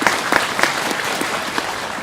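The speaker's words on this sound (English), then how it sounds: "Why are you clapping?" An audience at a Buddhist sutra teaching session claps briefly and steadily for about two seconds, a soft spread of hand claps heard from a moderate distance with no talking over it.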